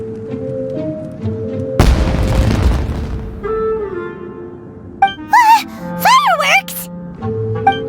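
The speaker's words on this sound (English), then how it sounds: "Was that an explosion? It sounded like fireworks." Fireworks burst in a Genshin Impact game scene, a sudden loud crackling boom lasting about a second and a half with a fading noisy tail, set among game music and character voices, followed by whooshing, whistling effects.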